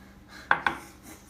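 A utensil knocks twice against a pan while stew meat and seasonings are stirred together, two quick, clear clinks close by in an otherwise quiet kitchen.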